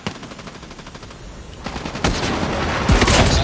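Rapid automatic gunfire in Call of Duty, dense and loud, building to heavier bursts of shots near the end with no talking.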